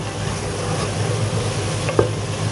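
Mutton keema with chopped tomato sizzles in a pan while being stirred, giving a continuous close frying hiss with a small clink of the spoon near the end and no talk.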